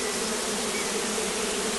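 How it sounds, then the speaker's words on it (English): A swarm of honey bees streams into a hive, making a dense, continuous, close buzzing drone that holds steady throughout. "There are obviously a few trailing bees coming in"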